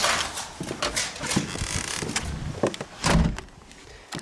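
The front door of an off-grid cabin is locked, giving a series of sharp clicks and rattling knocks from the latch and deadbolt, with a louder clunk near the end.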